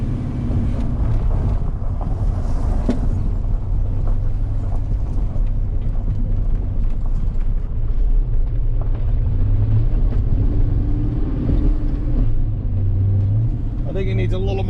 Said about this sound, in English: So we're gonna go take it for a ride down the street, check the clutch adjustment